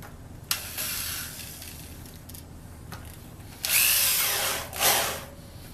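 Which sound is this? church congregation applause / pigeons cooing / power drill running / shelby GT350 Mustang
power drill running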